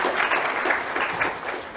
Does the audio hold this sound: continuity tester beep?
no